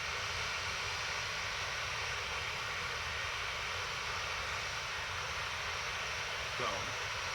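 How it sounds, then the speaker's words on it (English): Steady, continuous engine roar of a business jet in flight in a flight simulator game, a broad unbroken hum with no voices. "I do like flying the business jet"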